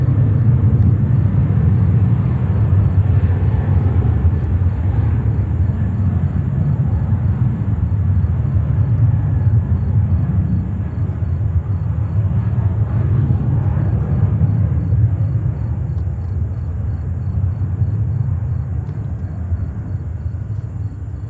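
An Air India Boeing 777 taking off at JFK airport in New York: a loud, steady low jet roar rumbling without a break for over twenty seconds, with no voices.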